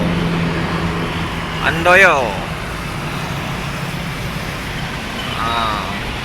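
Road traffic with a bus passing, a horn-like tonal blast sounding briefly near the middle and a fainter one near the end over steady roadway rumble.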